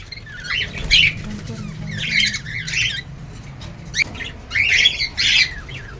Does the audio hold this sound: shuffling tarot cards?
no